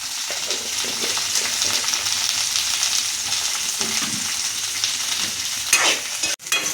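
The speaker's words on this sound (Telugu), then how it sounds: "ఇప్పుడు ఈ ఫ్రై అయిపోయినాయండి." Garlic and cumin seeds frying in hot oil in a pan, a steady close sizzle with occasional stirring scrapes and a sharp clatter near the end.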